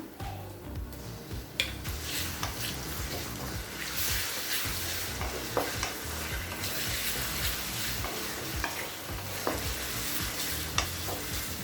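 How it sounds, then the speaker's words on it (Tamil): Ginger garlic paste frying with sliced onions in a hot kadai, a continuous close sizzle broken by repeated scraping and knocking of a spoon stirring, with no speech. "அடுத்தது 1 டேபிள் ஸ்பூன் இஞ்சி பூண்டு விழுது சேர்த்துக்கலாம்."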